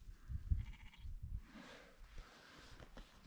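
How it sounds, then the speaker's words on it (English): Sheep bleating in a wild Scottish glen, a few short close calls and faint farther ones over outdoor ambience, with no talking. "There's loads of sheep here."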